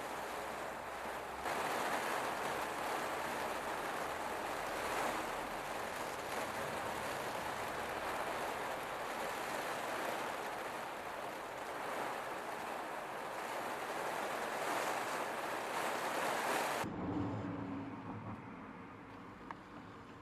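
Steady outdoor rain falls in a continuous, loud broadband wash with no talk, easing and thinning near the end.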